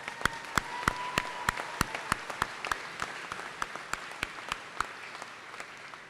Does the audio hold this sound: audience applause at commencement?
yes